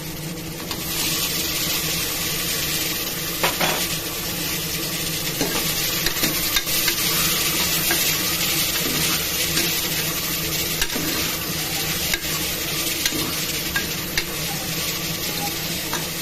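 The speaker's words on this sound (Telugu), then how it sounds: "ఇలా ఫ్రై అవుతూ ఉండాలండి కొంచెంసేపు." Tomatoes fry in a pan with steady, loud sizzling while being stirred, the scraping strokes of the spoon coming through close and continuous with no talk.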